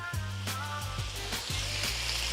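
Chicken fried rice sizzles in a hot pan after sesame seed oil is poured in, a steady close frying hiss with a few soft knocks and a tonal hum running underneath.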